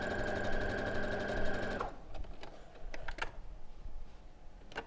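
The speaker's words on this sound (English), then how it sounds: "I'll just quickly finish sewing that unit together" A sewing machine runs in a fast, loud, even stitching burst while piecing a quilt unit together, then stops, followed by light clicks and handling of fabric.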